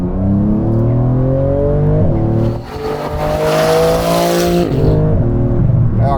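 A car at high speed on a race track, its engine droning loud and steady with rising gear pulls, a brief drop in revs, then renewed acceleration close by.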